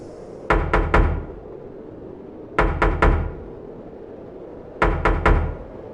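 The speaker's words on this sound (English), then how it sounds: "a small hand was knocking against the glass" A small hand knocks against vehicle glass in three quick bursts of three sharp raps each, evenly spaced, close and fairly loud over a low background hum.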